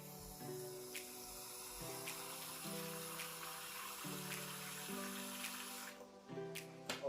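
Water pours from a tap into a water filter jug in a kitchen, a quiet steady trickling splash with faint rhythmic tonal tapping, before it stops near the end.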